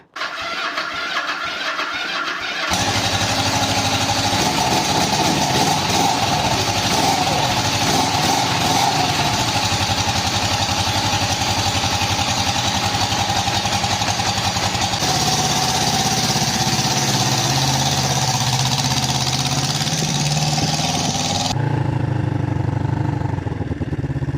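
A 1973 Yamaha TX500 motorcycle engine fires up after a brief start and settles into a loud, steady running drone close by, with a change in pitch partway through and a drop near the end.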